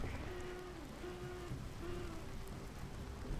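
Steady rain hiss falls on a flooded Monza circuit in Assetto Corsa Competizione, faint and continuous, with a thin engine tone gliding up and down beneath it.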